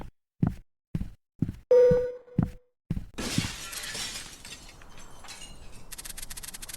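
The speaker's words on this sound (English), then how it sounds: "It sounded like shattering glass." Glass shattering inside a video game, preceded by several sharp evenly spaced thuds and a brief ringing tone, then a loud crash that breaks into a long scattering hiss of falling shards.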